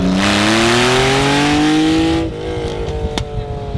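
A Honda Insight with a swapped-in Subaru SVX flat-six engine revs hard and climbs in pitch under loud acceleration, then drops to a lower drone after a shift.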